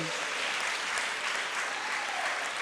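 A church congregation at a Pavitra Atma Ministries service claps loudly and continuously, a dense, even wash of hands close by with no pauses.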